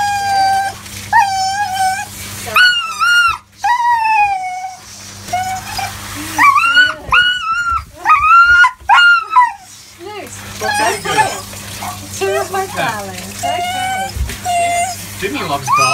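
A husky dog howls and cries in a series of drawn-out, wavering wails and whimpers, close and loud, with people talking softly in between.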